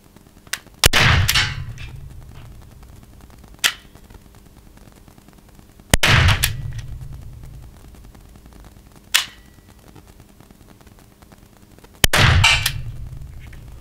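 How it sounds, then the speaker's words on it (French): An Umarex TR50L rubber ball gun fires three loud, sharp shots about six seconds apart at a target, each followed by a ringing tail, with fainter metallic clicks or clangs between them. "je vais tirer sur la cible de gauche"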